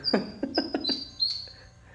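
Small birds chirp close by in a quick run of sharp tweets, followed by a few thin whistled calls against a quiet background.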